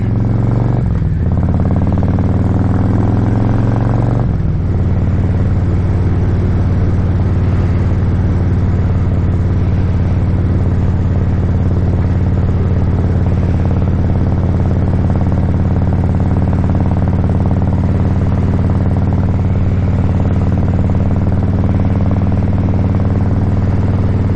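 A motorcycle engine runs steadily while riding, a loud, close, continuous drone with a brief shift in pitch near the start and then an even hum to the end.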